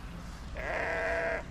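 A single sheep gives a clear, wavering bleat lasting under a second at a sheep farm, close and fairly loud over a low background hum, with no talk.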